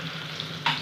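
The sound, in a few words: onion frying in hot oil in a kadhai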